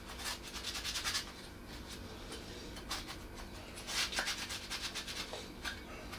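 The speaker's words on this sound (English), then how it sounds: "So just cleaning up the chrome cover there." Cloth rubs and polishes a Harley-Davidson chrome clutch cover off the bike in quick, faint back-and-forth strokes that come in bursts and pauses.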